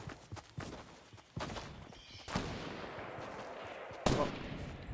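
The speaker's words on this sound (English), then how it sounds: "We're all getting sniped at, by the way." Sniper and rifle fire in a Fortnite battle royale duo match: several sharp, fairly quiet shots spaced a second or so apart, each trailing into a short echoing tail, with muffled game sounds between them.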